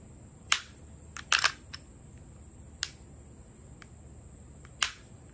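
Glock pistol trigger dry-fired, giving sharp isolated clicks at the break, roughly five separate snaps with a quick double near the second, close and crisp against a quiet room.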